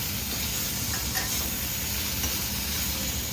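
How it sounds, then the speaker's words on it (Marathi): Masala sautéing in a hot pan, a continuous dense sizzle and hiss with faint stirring scrapes, close and steady throughout with no talk. "मसाला परतायचं काम चालू आहे."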